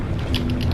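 A brief mechanical clicking and ratcheting of a shotgun being reloaded in Resident Evil 4, short metallic clacks over a low hum.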